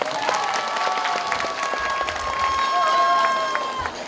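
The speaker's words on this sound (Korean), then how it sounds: "박수 한번." Applause from a crowd at a Korean political rally in Seogwipo, Jeju, a dense, steady wash of clapping and cheering lasting throughout, with voices and a sustained tone mixed into the noise.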